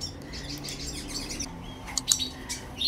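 Canary parents, a red crested male and a red frosted female, feed their chicks in a breeding cage, with soft, high nestling chirps and cheeps rising in short bursts near the microphone.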